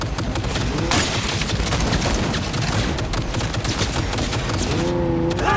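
Dense, loud automatic gunfire rattles nonstop during vehicle combat in Cyberpunk 2077 as the player drives and shoots at once, with a brief tonal whine rising near the end.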